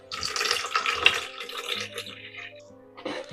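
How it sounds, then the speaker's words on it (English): Water splashes and pours as a sink drain trap is emptied during a slow-drain repair, a short, faint, close gurgling rush that tapers off, with a brief splash at the end. "To dump some of this water out."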